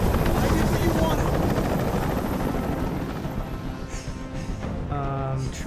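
A helicopter in the video game Detroit: Become Human makes a loud, steady, close rotor drone that thins out toward the end, while a voice speaks briefly near the finish.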